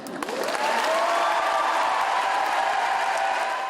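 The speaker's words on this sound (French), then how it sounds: "Et c'est parti pour 23 secondes d'applaudissements ininterrompus." Sustained applause from a theatre audience after a performance, a dense, steady roar of clapping at full loudness throughout, with no voices standing out.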